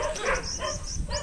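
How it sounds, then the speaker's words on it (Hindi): Dogs barking at home, a few short, moderately near yips and barks in quick succession over a busy household background. "पता नहीं कुत्ते क्यों भौंकदे पैन"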